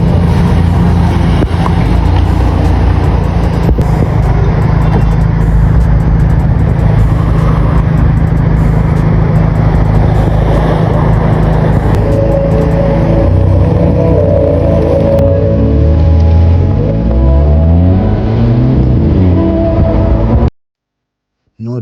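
An Audi A5 fitted with dual HKS boosters runs loudly and close, with a deep engine tone that swells and revs, its pitch rising and falling in the later part, then cutting out abruptly near the end.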